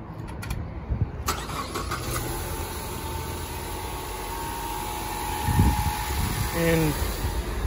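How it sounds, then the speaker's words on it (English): A car engine cranks and catches after jumper cables are connected, then settles into a steady idle with a faint whine. A second start-up surge follows, and voices are heard briefly. "And now I'm going to start my car."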